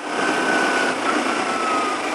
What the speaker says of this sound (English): My revs are dropping, so I'm going to gear down.